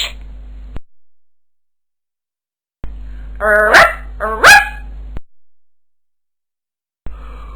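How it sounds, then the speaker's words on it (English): A dog in a children's animal-sounds song gives two quick, loud, close barks with a short yip, set between gaps of silence and no talk. "Who's making that bark?"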